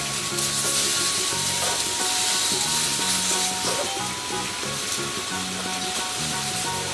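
Butternut squash sears on a hot plancha griddle with a steady, loud sizzle of frying throughout, scraping and stirring sounds breaking through now and then.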